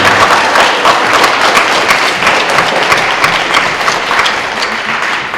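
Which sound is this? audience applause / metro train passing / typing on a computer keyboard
audience applause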